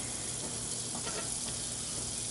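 Three pats of butter sizzle steadily in a preheated pan, a close, even crackling hiss with a few faint pops and no voices.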